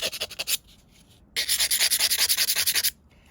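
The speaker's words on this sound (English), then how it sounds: "Diamond sanding hand pad or hand, yeah, and just give it a couple of rubs to take the point off." A diamond sanding hand pad rubs along the edge of a stained glass strip in a short gritty scrape, pauses, then makes a longer run of quick, rhythmic rasping strokes. Close, with no voices.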